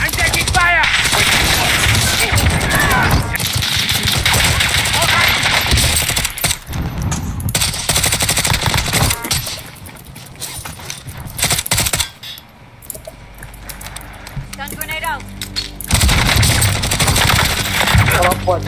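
Gunfire in the battle-royale video game Warzone, dense rapid automatic bursts that fill most of the stretch and are loud and close, easing briefly midway before resuming, with game voice callouts over the top.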